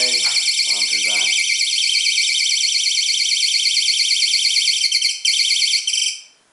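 A mouse-trap alarm triggered by a magnet pulled away from its reed switch blares a loud, continuous warbling electronic tone for several seconds before cutting off, with brief speech at the start.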